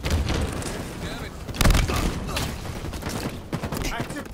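Gunfire rattles through a Halo Fiesta multiplayer match, with bursts of shots and heavy booming blasts, punctuated by short voice callouts throughout.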